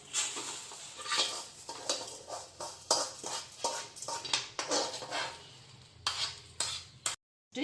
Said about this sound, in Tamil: இப்போ உளுந்தை எடுத்து மாற்றிடுவேன் கம்ப்ளீட்டில்.